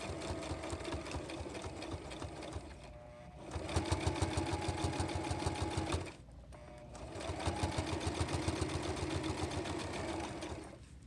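A sewing machine backstitches close to the edge of fabric for a glasses case, running in two steady bursts of rapid mechanical stitching with a short pause between them.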